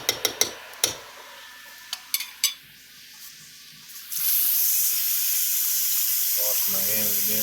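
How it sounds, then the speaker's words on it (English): A kitchen tap runs steadily into a sink for hand washing while cooking butter-poached lobster tail, a constant close hiss of water after some light clinks and knocks. "Wash my hands again, bear with me."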